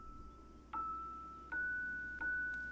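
A small bell fish in a VR fishing game rings three times, each clear chime struck at a slow, even interval and left to ring out softly over a quiet background.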